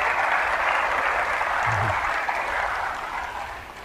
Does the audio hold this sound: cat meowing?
no